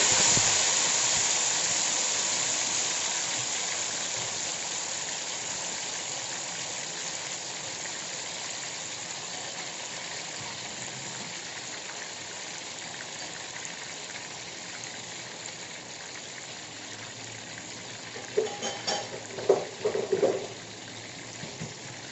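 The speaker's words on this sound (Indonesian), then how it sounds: "kita goreng tomatnya dulu ya, yang setengah kilo tadi." Steady sizzling of half a kilo of tomatoes frying in a pan for sambal terasi, a constant crackling hiss throughout, with a few brief knocks and stirs toward the end.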